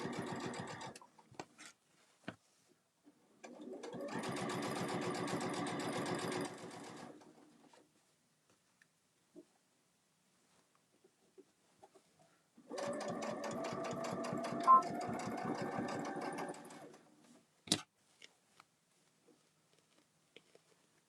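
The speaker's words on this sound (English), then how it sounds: "I'm going to backstitch as well." Sewing machine backstitching a quilted bag, two sustained bursts of rapid stitching of a few seconds each, close and steady, separated by quiet pauses with small clicks and handling sounds.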